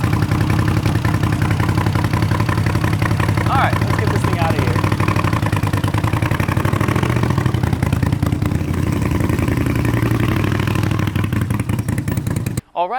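A motorcycle built from Amazon and eBay parts idles close by just after starting warm with no choke, holding a loud, steady, rough throb for most of the clip before cutting off abruptly near the end.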